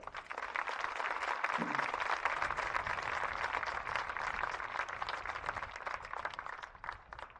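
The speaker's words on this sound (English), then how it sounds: "How about a round of applause?" A crowd claps steadily at a boys' lacrosse game ceremony between Staples and Ridgefield, a dense, even wash of applause that holds for several seconds before thinning slightly at the end.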